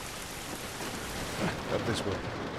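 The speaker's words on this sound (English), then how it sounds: "This rain ain't gonna do us any good." Rain falls outdoors in The Last of Us Remastered as a steady, moderate hiss of drops on surfaces, with a few faint voice-like bursts partway through and no clear speech.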